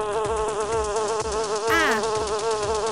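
A bee buzzes steadily and close, its wavering drone filling the whole three seconds with a brief rising swell near the end, no voices over it.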